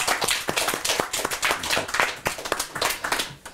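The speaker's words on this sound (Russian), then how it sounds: "Аплодисменты." A crowd claps and applauds steadily, dense overlapping hand claps with a lively, uneven rhythm throughout.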